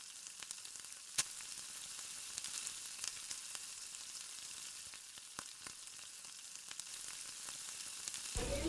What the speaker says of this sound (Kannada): ನೆಕ್ಸ್ಟ್ ಆ್ಯಡ್ ಮಾಡ್ತಿದ್ದೇನೆ ಕ್ಯಾಪ್ಸಿಕಮ್. ಅದನ್ನು ಕೂಡ ಚೆಂದ ಮಾಡಿ ಆಯಿಲಲ್ಲಿ ಫ್ರೈ ಮಾಡ್ತೇನೆ.